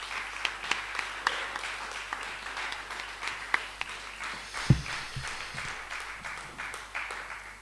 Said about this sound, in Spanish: Un fuerte aplauso para Lucía Camón.